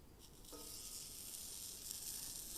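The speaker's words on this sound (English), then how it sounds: "a sizzle's a good thing" Sweet potato pieces sizzle in hot avocado oil, a steady, fairly faint hiss that runs unbroken and alone throughout.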